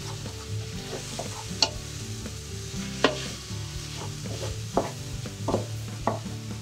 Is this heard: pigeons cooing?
no